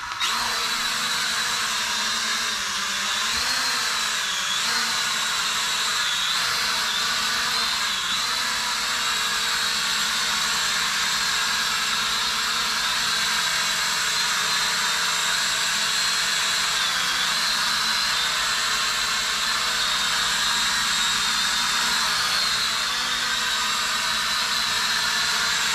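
A small E99D Max LED camera drone takes off and hovers nearby, its spinning propellers producing a loud, steady high-pitched whine that wavers slightly in pitch throughout, with no talking.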